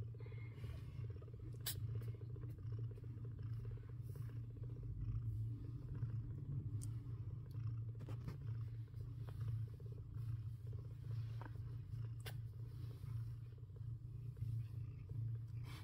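A kitten purring softly and steadily in a low continuous rumble, with faint scattered rustles and small clicks around it and no talking.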